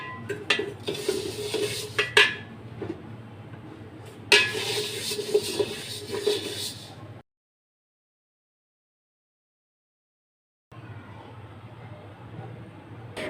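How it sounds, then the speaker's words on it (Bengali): Black gram dal dry-roasted in a pan gives light scraping and clinking of a stirring utensil, intermittent and moderately close, followed by a silent gap and faint continued rustle. "তারপরে এটা ডালটা ভেজে নিতেছিল"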